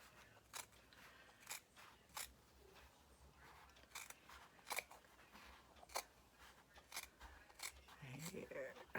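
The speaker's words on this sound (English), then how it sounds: "It gets a little tricky with my big scissors" Large scissors snip through fabric while making faux chenille, giving repeated crisp crunching cuts at an uneven rhythm, close and fairly quiet, with soft talking underneath.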